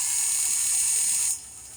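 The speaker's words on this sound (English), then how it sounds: "My drill just sometimes, it's a heavy drill" A heavy electric drill whirs at a steady high pitch for just over a second before stopping abruptly. It is drilling holes in an O scale model part.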